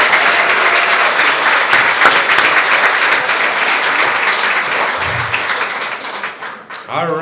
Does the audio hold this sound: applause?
yes